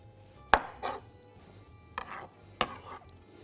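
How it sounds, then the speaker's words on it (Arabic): A knife chops Kalamata olives in half on a cutting board, giving a few sharp, close knocks spaced irregularly, with softer slicing sounds in between and quiet moments between strokes. "الزيتون الكلماطه، مخلي، بس انا حابب ايه، اقسمه اتنين"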